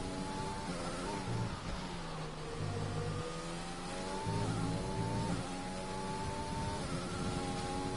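A Mercedes Formula 1 car in an F1 racing game screams through a lap at the Belgian Grand Prix, its high-pitched engine whine rising and falling with gear changes, steady and close throughout.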